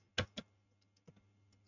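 A few sparse keystrokes on a computer keyboard, quiet and close, tapping out a short command in an otherwise silent room.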